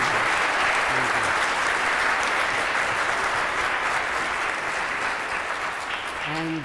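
Church congregation applauding steadily throughout, a dense sustained wash of clapping at fairly even loudness, with a few brief voice murmurs near the start and end.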